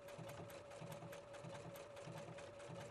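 A Husqvarna Viking Platinum Plus sewing machine hums steadily at a constant speed while stitching a ready-to-wear knit hem with presser foot B, a soft, even, continuous run with no pauses.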